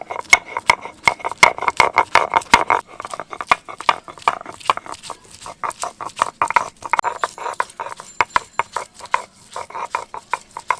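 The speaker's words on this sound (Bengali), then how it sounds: "আদা রসুনটা বেটে নেব" Ginger and garlic crushed into paste by hand, a quick irregular series of sharp knocks and scraping pats against a grinding stone, steady and close, with no voices.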